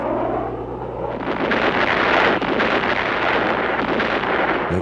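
A heavy, continuous rumble of distant artillery, naval gunfire and air-strike explosions during a Vietnam War bombardment, roaring and dense, with wind buffeting the microphone throughout.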